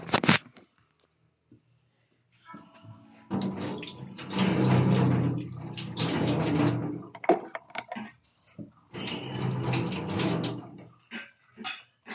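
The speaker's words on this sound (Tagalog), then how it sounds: "magtututbrush muna bago ako maligo" Tap water runs at a bathroom sink during tooth brushing, coming in irregular bursts of splashing and gushing with brief quiet gaps, fairly close and moderately loud.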